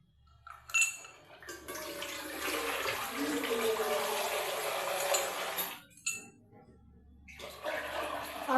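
Water pours into a cooking pot in a steady splashing gush for several seconds, with brief pauses between pours and softer trickles at the start and end.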